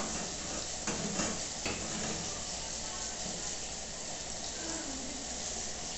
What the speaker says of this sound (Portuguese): E aí eu tô fritando o alho com a boca do fogão apagada.